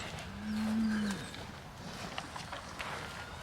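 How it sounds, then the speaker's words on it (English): A shaggy little cow on a farm in cold weather gives one long, low moo near the start, followed by quiet outdoor ambience. "These shaggy little cows."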